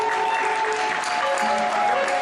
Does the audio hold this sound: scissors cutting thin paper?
no